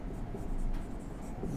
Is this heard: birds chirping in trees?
no